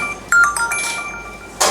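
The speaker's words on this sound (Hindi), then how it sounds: "इतना मोबाइल पुचुर पुचुर होता रहता है" Mobile phone ringtone chiming in a classroom during a lesson on the venturi meter, a few short melodic electronic notes repeating, followed by a brief burst of noise.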